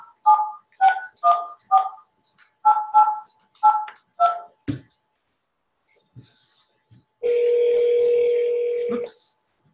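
Outbound phone call: a rapid run of DTMF keypad tones in short bursts, a brief click, then a steady ringing dial tone near the end, close and clean with faint murmurs between.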